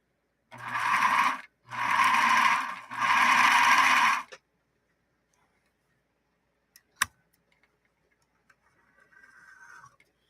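A Bernina Minimatic 707 sewing machine running a straight stitch in three close, loud whirring bursts with short pauses between, then quiet with a sharp click and a brief faint hum near the end.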